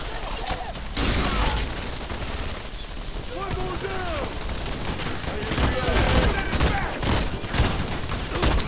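Enemy machine-gun fire and combat in The Expendables 2 video game, sustained loud bursts with explosions and mechanical clatter, while a player talks excitedly over the fighting.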